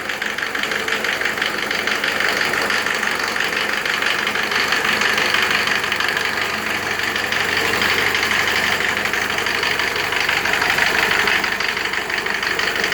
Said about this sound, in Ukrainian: не димить, мотор хороший, робить рівно.